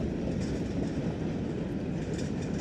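A CSX freight train rolls by up close at Crofton, Kentucky, a steady, dense rumble of rail cars and wheels, with faint clickety-clack throughout and no voices.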